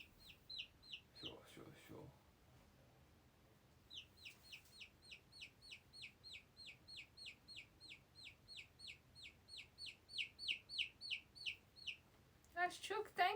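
A chicken clucks in long runs of quick, rhythmic, high-pitched notes that grow louder toward the end. Brief quieter sounds and a short burst at the close break up the calls.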